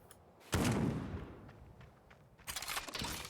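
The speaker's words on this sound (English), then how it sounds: "Why don't I just use my gun?" Gunshots from the player's gun in the video game Death Trash: a loud burst of firing, then quieter scattered shots, and a second dense volley near the end.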